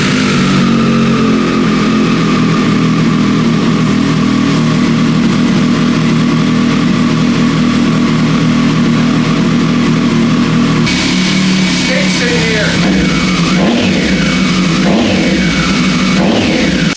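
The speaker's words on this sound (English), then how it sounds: "Triumph exhaust test numero uno" A Triumph sportbike with most of its catalytic converter removed idles loudly up close, then its exhaust blips and revs in several sharp rises and falls toward the end.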